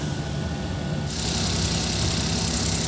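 A freshly overhauled Suzuki K6A engine with a newly installed timing chain idles close by, holding a steady, even hum with a faint vibration throughout and no voices.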